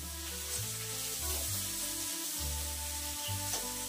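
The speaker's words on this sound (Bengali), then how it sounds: "এই যে এখানে পেঁয়াজটাও ভাজা ভাজা হয়ে গেছে।" Chopped onion sizzles steadily as it fries in a pan of oil, a continuous crackling hiss running throughout with a low tonal hum beneath it.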